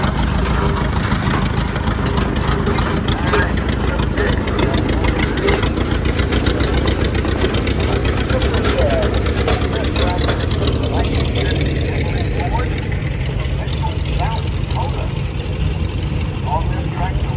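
An antique farm tractor engine runs at an agricultural machinery and steam thresher exhibit, a steady close chugging idle with a rapid pulsing beat that softens slightly toward the end, with people talking in the background.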